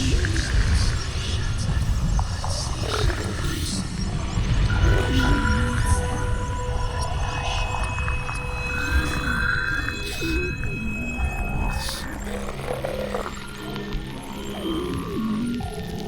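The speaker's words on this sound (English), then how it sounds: "it even produces some creepy alien-like sounds" Eerie throbbing hum with warbling, whale-like electronic tones from a camp decor item in a video game, sustained and fairly loud throughout with no talking.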